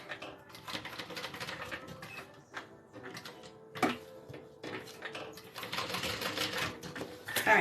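A sewing machine stitches in fast, rattling runs that start, pause and resume, close by and moderately loud, with no one speaking.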